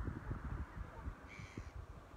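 Faint, distant screeching from birds over a lake at Chew Valley Lake, where terns and seagulls fly, rising briefly above a steady low rumble of wind.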